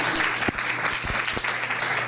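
Audience applause at an arts council grant workshop, a steady dense wash of clapping from a crowd that fills the whole moment, with a few sharper claps standing out.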